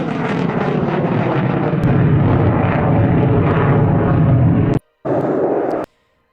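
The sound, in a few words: F-35 fighter jet flying low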